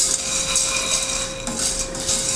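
Vegan meatballs fry with seasonings in a pan, giving off a steady, close sizzling hiss with small clicks and light clatter of the pan and utensils, and no voices.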